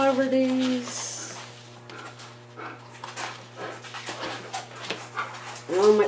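Pet dogs pant and whimper softly nearby over a steady low indoor hum, with a person talking over the animal sounds.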